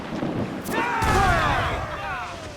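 Ship cannon fire in Assassin's Creed IV: Black Flag, a heavy booming blast with a rumbling tail, mixed with shouted voices over the din of a naval battle.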